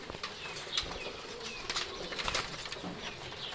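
Pigeons flap their wings near a rooftop loft in bursts of quick, fluttering beats, with faint cooing in the background.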